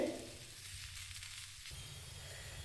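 Okra (lady finger) sizzles steadily while frying on a high flame, a soft, continuous hiss with a faint stirring change partway through, heard alone and fairly quiet.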